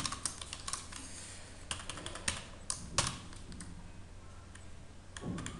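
Someone types code on a computer keyboard in quick irregular bursts of clicking keystrokes, close and fairly quiet, with short pauses between runs.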